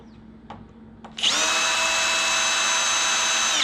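A power drill spins up after a couple of soft clicks, then whines steadily at high speed removing screws to reach a snowblower carburetor, close and loud, until it stops at the end.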